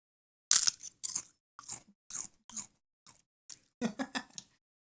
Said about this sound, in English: I just hear all your crunching